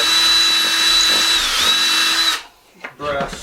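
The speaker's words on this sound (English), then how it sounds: "I'm going to drill that hole out a little" A power drill whines steadily at close range as it bores into wood, then stops abruptly, followed by brief quiet and a short voice.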